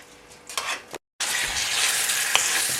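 Food frying in a pan over high heat sizzles steadily, with a brief stir and a short silent gap before a louder, continuous hiss resumes.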